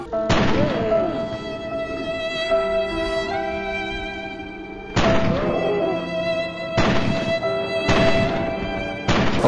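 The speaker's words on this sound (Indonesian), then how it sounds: "Oke, kita akan tembak bagian jantung, ya." Loud gunshots in the GTA 5 police mod game, several sharp booming thumps at irregular intervals over steady game music and ambience.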